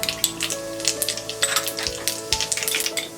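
Mustard seeds and cumin seeds hit hot oil in a pan, giving a close, crackling sizzle with sharp pops and spatters scattered throughout, no voices.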